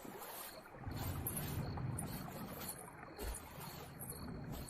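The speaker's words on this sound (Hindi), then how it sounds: "विराट वापस से नदी पार करने लग जाता है।" A boat crosses a river at night, giving steady watery sloshing and low wind-like rumble throughout, moderately near with no voices.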